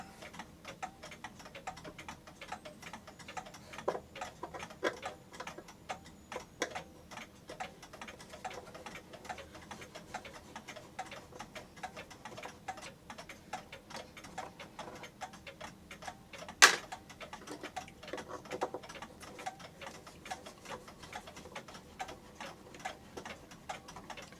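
A New Haven 30-hour steeple clock ticks steadily and quietly at close range, an even run of light mechanical clicks with one sharper knock partway through.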